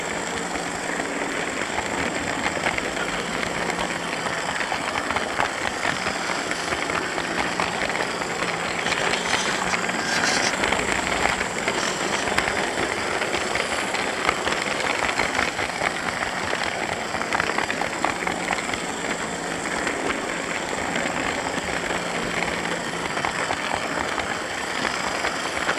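A Lima Class 37 model locomotive, with a Lima Class 31, crawls slowly around a model railway layout, giving a steady low motor hum and a rolling rumble that continue evenly throughout.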